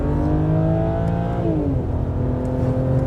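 A 540 hp truck with a 12-speed gearbox drives along, its engine droning loudly from inside the cab and shifting pitch as it changes gear.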